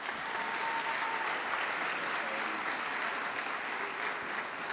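An audience at a university senior honors ceremony claps steadily and evenly, a dense wash of applause with no clear voices over it.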